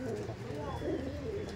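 Chila pigeons at a busy pigeon market coo in low, overlapping calls nearby, with people chattering around them.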